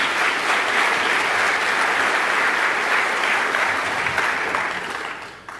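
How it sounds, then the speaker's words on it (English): Steady, dense applause from an awards ceremony audience fills the hall, holding loud and even before thinning slightly at the very end. "Give him a big round of applause."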